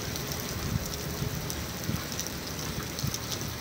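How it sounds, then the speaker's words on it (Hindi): Steady rain falls on a road in Bahria Town, Karachi, producing a continuous broadband hiss with scattered soft patters and a faint low rumble beneath, heard without talk. "सड़क पे पानी के कतरे गिरते हैं, इतने प्यारे लगते हैं"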